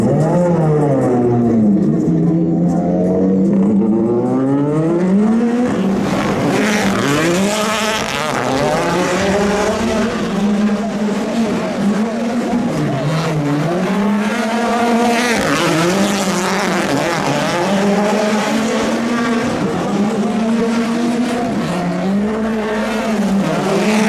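A drift car engine revs hard and loud at Red Bull drifting on Spike Island, Ireland, its pitch climbing and falling in repeated sweeps that ring off surrounding walls, continuous with no voices.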